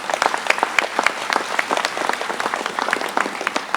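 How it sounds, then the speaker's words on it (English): A crowd at a cooperative's annual meeting applauds steadily, many hands clapping in a dense, even patter that fills the room with no voices standing out. "giving them a round of applause"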